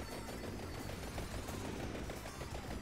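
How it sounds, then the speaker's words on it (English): Homing missile explosions in the video game Vampire Survivors come as a dense, continuous barrage of rapid blasts and crackling impacts, loud and steady throughout with no pauses and no talking. "homing missile gets pretty big explosions"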